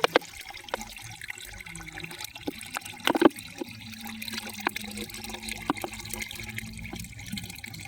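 Onion-soaking water trickles and splashes as it is poured, with irregular small clinks and drips over a faint background, nearby and fairly quiet.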